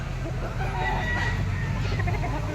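A white-legged stag rooster crows up close, the call rising over a steady low rumble of background noise, with a faint voice in the distance.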